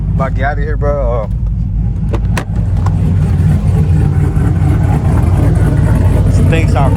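A modded race truck engine roars loudly and steadily throughout, with a low throaty rumble close by. Someone talks over it near the start.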